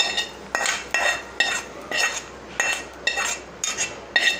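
A spoon stirs ghee rice in a metal pot, producing a regular series of loud, close scraping clanks about twice a second, each stroke a sharp metallic scrape against the pot with short pauses between.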